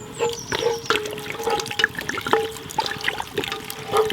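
Red wine is poured into lasagne sauce in a cast-iron Dutch oven over an open fire, giving a short splashing, trickling pour with small drips and clinks nearby.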